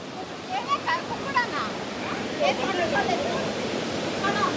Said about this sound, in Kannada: ಕುಕ್ಕಳ ವಾಟರ್ ಫಾಲ್ಸ್ ಅಂತ ಇದು